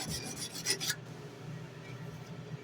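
Hand sanding with coarse 80 grit sandpaper, a dry rasping scrape in quick back-and-forth strokes, loud at first and then settling into a softer steady rub, close up with no talking.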